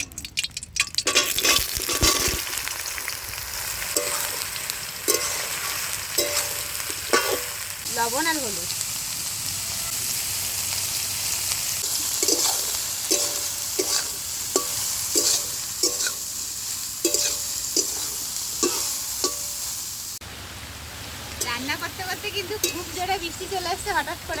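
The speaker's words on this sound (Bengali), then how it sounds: "বেরেটটা ভাজা তেলের মধ্যে এবার সাবিনগুলো ভেজে নেব" Soybean chunks fry in oil that has already cooked something else, with continuous sizzling and repeated scraping stirs of a spatula in the pan, plus a few brief clinks, close and fairly loud throughout.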